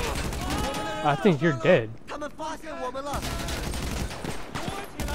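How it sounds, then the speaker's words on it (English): Gunfire in Grand Theft Auto V story mode crackles in bursts beneath overlapping voices, with loud talking dominating the short stretch. "Can you shoot the guy right there?"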